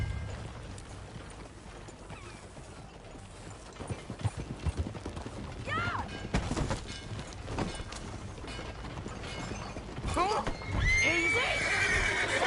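Horses gallop with rapid clip-clop hoofbeats and give several loud neighs and whinnies in the Red Dead Redemption 2 video game, with character voices talking over the riding.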